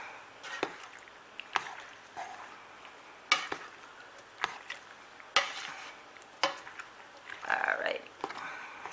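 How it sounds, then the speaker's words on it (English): Food stirred with a utensil through a pan of melted butter, with a whole stick of butter for a broccoli and macaroni dish, giving irregular scraping knocks and clacks over a soft sizzle, close by. "we're just going to move this around just so everything gets coated"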